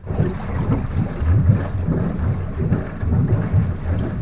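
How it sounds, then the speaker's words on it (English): A low, burbling outboard motor exhaust gurgling through water beside a small dinghy, a steady rumbling flutter up close with no voices. "Something real nostalgic about the sound of exhaust flopping through the water."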